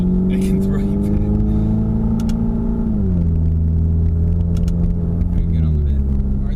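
A Ford Mustang EcoBoost heard from inside the cabin downshifts to first, its steady exhaust drone dropping in pitch midway under continuous talk.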